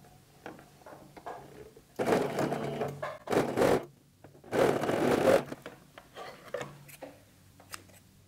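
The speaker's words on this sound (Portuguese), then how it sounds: "E vou passar um pezinho de máquina." A sewing machine with a 0.75 presser foot runs stitches along a fabric face mask in three short bursts of rapid whirring, separated by quiet pauses.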